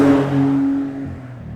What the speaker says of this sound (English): this, of course, is in a car with 630 horsepower